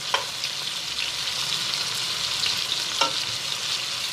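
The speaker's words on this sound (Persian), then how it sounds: "گوشتامون رو شروع میکنیم از همه طرف سرخ کردن و خوش رنگ کردن گوشتامون" Meat sizzles steadily in a hot pan, a constant crackling hiss with a couple of sharper pops and stirring clicks.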